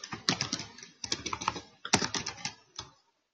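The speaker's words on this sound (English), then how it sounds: "Let's type in Pitbulls." Fast typing on a computer keyboard comes in three quick, close runs of clattering keystrokes, with a final single key press before silence, and no voices.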